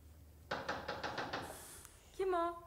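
Police knocking on a door at night, a run of five or six firm raps close by, followed by a voice calling out.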